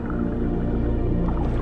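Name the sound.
dolphin squeaks and clicks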